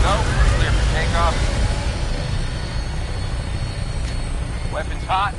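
In a video game, an aircraft engine roars steadily as it takes off, a loud continuous low rumble, with voices speaking over it at the start and end.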